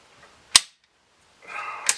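FosTech Echo bolt carrier in a rifle slams forward with a single sharp, loud metallic clack, followed by a brief rustle and a second quicker click near the end.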